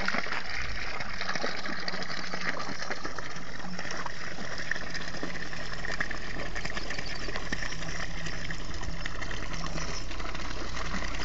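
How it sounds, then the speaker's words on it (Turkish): Water rushes and gushes steadily from a fountain spout on the Gölova plateau in Sivas, a loud continuous splashing roar close by with no pause, no talking. "Sesine baksana. Ama bir suyu var ha."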